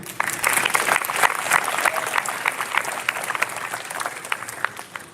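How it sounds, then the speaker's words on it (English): Steady applause from a large crowd, dense clapping that holds throughout without pause. "Another round of applause, please."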